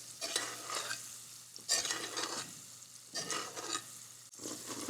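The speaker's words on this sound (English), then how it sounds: "sure the shallots are in that butter and that the butter is bubbling nicely" Butter bubbles with shallots over London broil steaks in a pan, a faint sizzle broken by repeated scooping and stirring scrapes that come in bursts.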